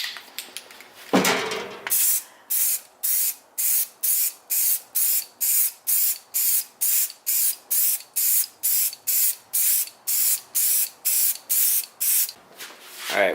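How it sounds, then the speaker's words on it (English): A can of white spray paint hisses in a long run of short, even bursts, about twenty close, loud sprays in steady rhythm with brief gaps between, after a first longer blast. "we found some white spray paint"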